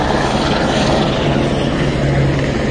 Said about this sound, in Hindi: ये देखिए इधर हेलीकॉप्टर भी चल रहा है।